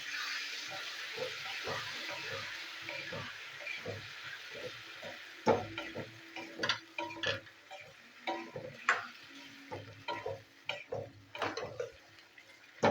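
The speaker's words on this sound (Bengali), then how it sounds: "এবার নাড়াবো।" Yogurt and sugar stirred into potol korma in a pan over low heat: soft, irregular ticks and scrapes of a spoon against the pan, close and light, with a faint steady hiss behind.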